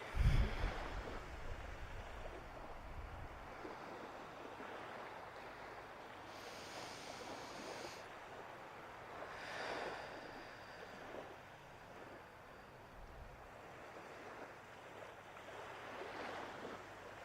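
Ocean surf rolls in soft repeated swells with a low wind rumble underneath, steady and moderately distant, calm waves washing without any voices.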